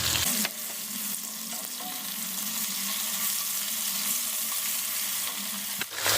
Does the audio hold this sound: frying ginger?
yes